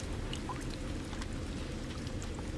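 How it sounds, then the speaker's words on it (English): Steady, even hiss of in-game rain in No Man's Sky with scattered faint droplet ticks, constant and moderately loud throughout, no voices. "Oh, it's raining."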